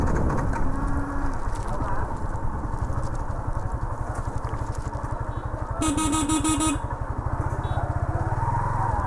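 A motorcycle idles roughly and unevenly near a market, its close engine throb pulsing irregularly and stuttering while birds coo and chirp in the background.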